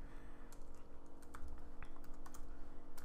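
Computer keys being typed on close by, a quiet run of irregular taps over a steady low hum.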